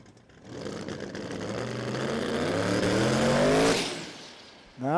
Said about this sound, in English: Big block single turbo, but I do have a funny feeling it is an LS power deal now for Jamie.